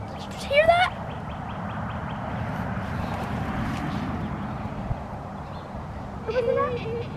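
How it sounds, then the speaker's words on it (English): A bird calling, dove or owl, outdoors near trees: two short bursts of call, one early and one near the end, over a steady outdoor hiss and faint background voices. "It was either a dove or an"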